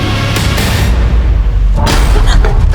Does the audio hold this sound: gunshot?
yes